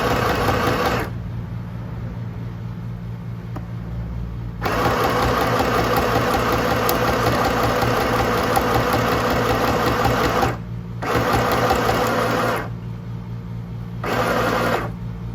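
Sewing machine stitching with dark blue top thread and black bobbin thread: a loud, steady mechanical whirring hum in several bursts, stopping and restarting with short pauses between runs.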